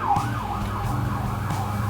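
An emergency vehicle siren wails outside, its rising and falling tone sweeping repeatedly over a faint background hum, moderately distant and heard alone.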